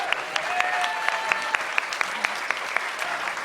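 An indoor audience claps for a panel at an evening event, a dense, steady round of applause with sharp individual claps standing out, close and continuous.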